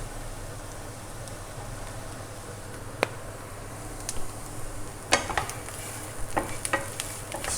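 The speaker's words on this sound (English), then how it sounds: "Stir it around." Potatoes and spices are stirred in a frying pan, giving a soft continuous sizzle broken by a few scraping strokes and clinks of the utensil against the pan.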